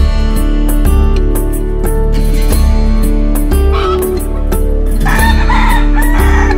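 Chickens cluck and a rooster crows among loud, busy, music-like layered sound, with the birds partly buried in the dense mix.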